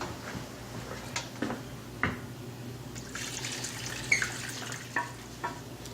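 Liquid poured over raw chicken in a bowl during home cooking, a soft, faint trickle and splash with a few light clinks, no talking.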